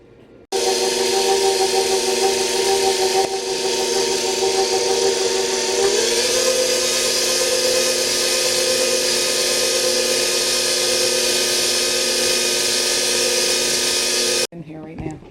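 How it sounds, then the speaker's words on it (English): An electric mixer whips butter and milk icing in a home kitchen, a steady, loud, continuous motor whir that runs without a break for about fourteen seconds, with a slight shift in pitch partway through. "I beat the living daylights out of this icing to try to make it fluffy"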